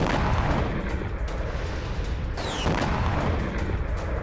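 Bombardment at a Syrian military base sets off heavy blasts, a dense, continuous roar of booming explosions with sharp impacts and a sudden burst midway, loud and without speech.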